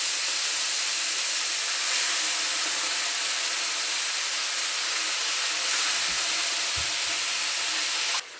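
Fish frying in oil in a pan, a steady loud hiss and sizzle running throughout with no pauses, a few faint clicks near the end.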